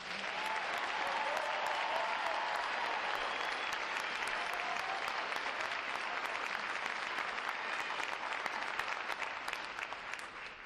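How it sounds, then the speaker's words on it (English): Sustained applause from a large crowd at a Navy recruit training graduation ceremony, a dense, even roar of clapping holding steady throughout before easing slightly at the end. "Please join me in giving them and the 9 other graduating divisions here today a round of applause for their outstanding performances."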